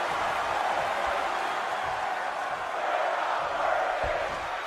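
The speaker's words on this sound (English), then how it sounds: "You can hear the crowd. They're saying we're not worthy." A wrestling arena crowd roars in a steady, distant wash of voices, a continuous chant-like rumble filling the hall throughout.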